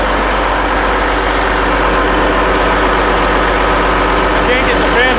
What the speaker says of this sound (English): I got the idle up high with the bungee cord